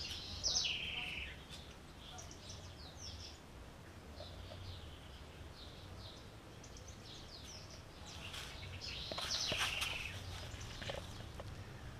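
Small birds chirp and tweet in scattered bursts over a low outdoor rumble, with a louder cluster of calls near the start and again toward the end.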